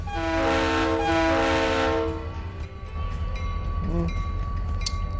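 A train in the Trainz Railroad Simulator 2019 game sounds a long, loud horn blast for about two seconds over a steady low rumble of rolling cars, which carries on after the horn stops.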